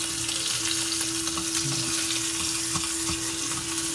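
Steak sizzling in a frying pan, a steady bright hiss of frying with a constant tone running beneath it and a few soft knocks, no voices.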